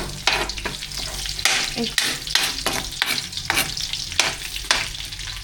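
Unpeeled garlic sautéing with pork in a hot pan for pakbet, a steady close sizzle broken by repeated scraping strokes of stirring; a voice briefly murmurs once.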